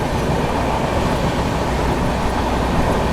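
The Howrah Amritsar Mail, an Indian express train, rumbles past loud and close in a steady, dense roar of wheels and carriages with no break and no voices.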